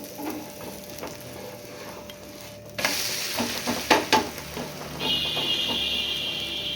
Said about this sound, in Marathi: आपण तेल टाकून घ्यायचं आहे आणि कडा मोकळ्या करून आपला धिरडे पलटी मारून घ्यायचे